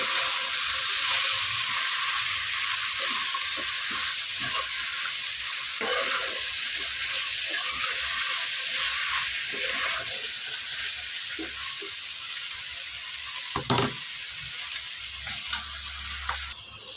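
Chicken and chopped bottle gourd sautéing together in a pan, giving a long, even, close hiss with soft stirring scrapes and a few clatters toward the end, with no voices.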